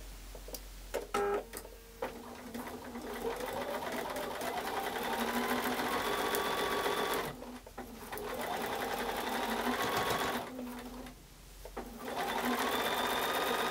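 A sewing machine stitches quilt block seams in long steady runs of fast, even needle chatter, pausing briefly between passes, close and clear with no talking.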